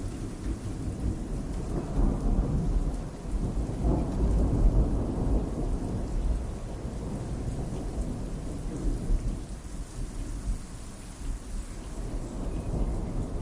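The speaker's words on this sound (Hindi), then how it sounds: "तूफान चलता रहा और अराजकता के बीच साहस एक मार्गदर्शक सितारे के रूप में चमका" Heavy rain pours steadily while thunder rumbles low and long in the background, loud and continuous with no voices.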